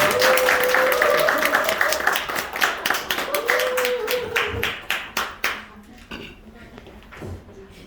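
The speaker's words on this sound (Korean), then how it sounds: "큰 박수로 맞이해주세요" Loud audience applause with sharp clapping welcoming a lecturer on stage at a seminar in Daegu, swelling then gradually thinning out, while amplified talk from the host runs over the start.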